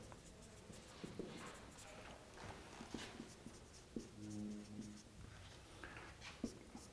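Chalk scratching and tapping on a classroom board during a signals and systems lecture on Gaussian processes, with a run of short strokes and taps, some louder, over faint room noise and quiet talk.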